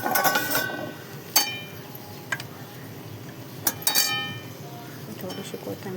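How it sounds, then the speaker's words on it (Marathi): A metal lid comes off a cooking pan of green-masala cluster bean curry, giving a few sharp clinks and clatters against the rim, with quieter kitchen handling between. "मी झाकण काढून घेते."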